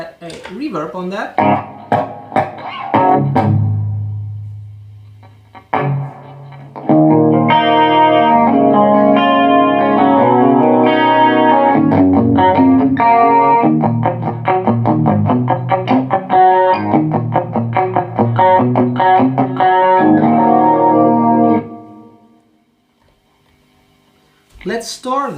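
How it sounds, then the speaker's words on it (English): An electric guitar through a Zoom G2.1u pedal's chorus with added reverb, a few single notes ringing out before steady strummed chords, then fading into a brief quiet tail. "Now we could add a reverb on that."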